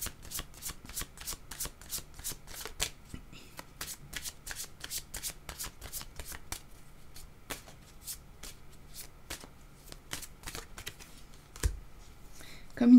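Tarot cards shuffled by hand up close, a long run of quick crisp riffles and slaps in an uneven rhythm, fairly quiet, ending with a louder handling bump.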